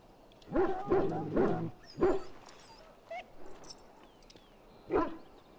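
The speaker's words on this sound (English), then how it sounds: "The dog looks up at you respectfully, backing down from his aggressive stance." A sick dog in the Dragon Age: Origins video game whimpers and gives soft, whiny yips, a quick run of three plaintive cries, another after a pause, then one more, at moderate distance.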